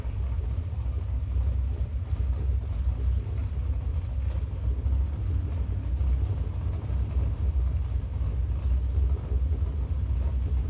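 A Hemi car and a dragster drag racing, heard as a continuous deep engine rumble that stays fairly distant and steady, with no clear voices.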